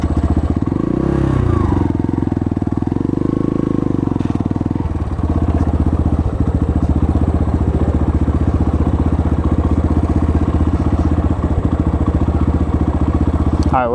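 An Apollo 250cc dirt bike engine idles in neutral with a loud, steady close-up putter, briefly revving and fluttering early on before settling into an even idle.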